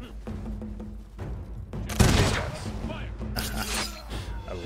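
Musketeers fire a volley in the Humankind strategy game: a loud, sudden crackling burst of massed musket shots, followed by a second burst, over battle ambience and a talking voice.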